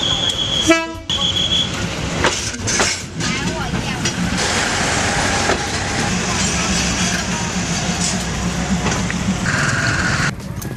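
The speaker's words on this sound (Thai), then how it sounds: "เมื่อรถไฟแล่นผ่านเรา" A train rumbles past at close range through Mahachai fresh market with a brief horn blast at the start, steady heavy clatter of wheels, and people's voices faintly underneath.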